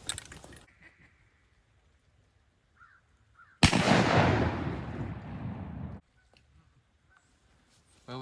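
A loud shotgun blast during a duck hunt on an island, a single broadband burst that rolls on for about two seconds before cutting off, with faint bird calls and quiet outdoor air around it.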